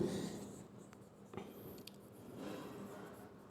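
Chalk scratching across a classroom board during a Class 10 coordinate geometry lesson, a steady faint scraping with a few sharper taps, heard alone without talk.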